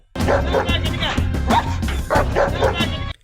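A German Shepherd guarding a farm gives repeated close, loud woofs and yips in quick bursts, with whimpering tones between barks across a few seconds.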